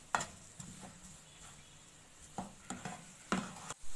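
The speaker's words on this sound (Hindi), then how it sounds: "हम डाल देंगे धनिया और इसको मिक्स करेंगे 1 से 2 मिनट के लिए, मज़ीद इसको फ्राई करेंगे" A coriander masala mixture being stirred and fried in a pan: a soft low sizzle broken by several sharp scraping and clinking strokes of the spoon against the pan, close and fairly quiet, with no voices.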